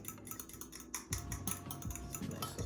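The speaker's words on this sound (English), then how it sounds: "And then you stir her up." A spoon stirs homemade salad dressing in a dish, giving soft, irregular clinks and scrapes of metal against the container, close and fairly quiet with no talk.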